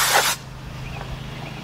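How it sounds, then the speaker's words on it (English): A short burst of carburetor cleaner sprayed onto the engine of a 2012 Ford F-150 pickup with the 3.5 engine, a loud, close hiss lasting about a third of a second before cutting off into quiet shop background. "get you some carburetor cleaner and spray your insides"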